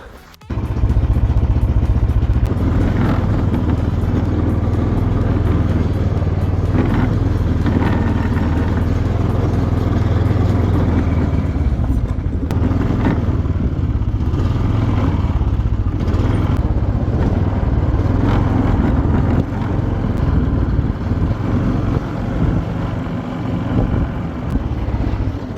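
A sketchy go-kart's small engine runs loud and steady on a test, with a rough rattling idle and occasional clatter, continuous and close throughout.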